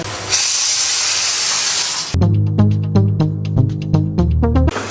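Pressure cooker of dal venting steam in a home kitchen: a loud steady hiss for about two seconds, then a burst of rapid rhythmic whistle-like puffs and sputters, close and loud, with no talking.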